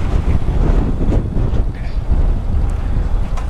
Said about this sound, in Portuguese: Caramba, tá mó vento.